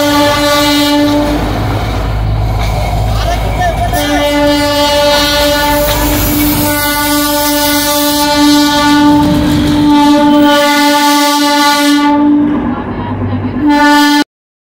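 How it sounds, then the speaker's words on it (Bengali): The old heritage Darjeeling toy train sounds a loud, close horn in long sustained blasts with brief breaks, over the rumble and clatter of the rail cars. "হঠাৎই দেখতে পেলাম সেই পুরনো ঐতিহ্যবাহী টয় ট্রেনকে।"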